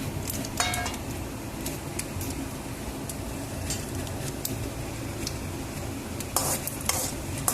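Mustard seeds, chana dal and urad dal sizzle and crackle in hot oil while being stirred for vegetable vermicelli upma, with steady frying hiss, occasional sharp pops and spoon scraping against the pan.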